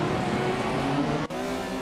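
A 1988 Porsche 944 Turbo in a racing video game holds a loud, steady engine drone at high revs, with a brief dip near the end before the note carries on.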